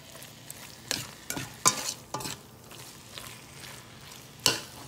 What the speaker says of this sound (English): So all I'm going to do is just mix it so that the egg cooks.